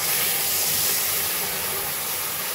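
Milk poured into hot melted jaggery in a pan, giving a steady, loud broadband hiss and sizzle that holds evenly throughout with no voices.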